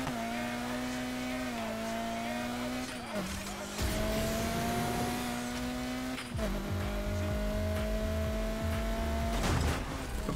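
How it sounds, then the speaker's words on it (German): Car in a racing video game drifting, engine whine holding steady pitches that drop at each shift while tires squeal in bursts, loud and continuous. "Das Auto driftet aber übel krass."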